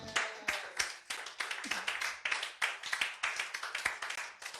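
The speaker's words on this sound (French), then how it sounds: "On acclame le Seigneur." A church congregation claps to acclaim the Lord, many hands striking in fast, fairly regular bursts at moderate distance, with faint voices underneath.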